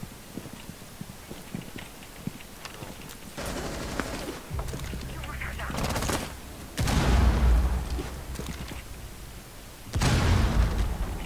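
Gunshots in the Rainbow Six Siege video game, with scattered cracks early on, then several loud bursts of fire about every few seconds, each trailing into reverberant noise.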